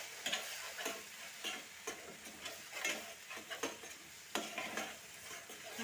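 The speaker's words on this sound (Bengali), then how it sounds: "মশলাটা আমার খুব ভালো করে ভাজা হয়ে গেলে দেখবেন যে তেল ছেড়ে আসছে" Masala spices fry in oil in a pan for mango paneer, with a soft sizzle under repeated scraping strokes of a spoon stirring at an uneven rhythm, close and fairly quiet.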